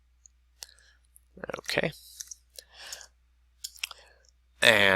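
A computer mouse gives a few scattered clicks while a file is opened, with brief soft talk in between and a louder burst at the end.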